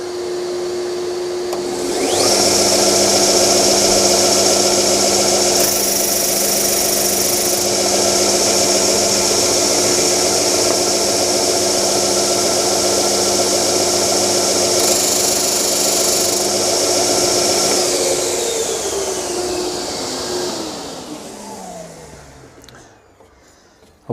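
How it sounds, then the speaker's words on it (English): Dust extractor switched on with a sander for box making, spinning up to a loud steady roaring whoosh that holds for about fifteen seconds with brief surges, then winds down in a falling whine as the motor coasts to a stop. "So if I put the extractor on"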